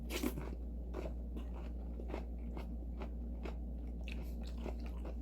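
Close chewing of walnut cakes with radish kimchi, with soft crunches and bites at irregular intervals over a steady low hum.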